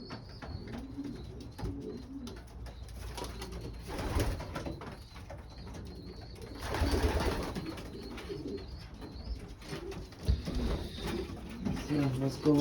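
Pigeons coo softly in a loft, low murmuring calls repeating throughout under a man's steady conversation, with occasional louder bursts of rustling and cooing.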